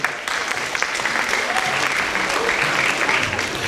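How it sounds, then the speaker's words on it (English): Children and adults applaud performers at a school MLK and Asian cultural assembly, a loud, steady roar of clapping from a large crowd in a hall, sustained with no break. "Let's hear another applause for them"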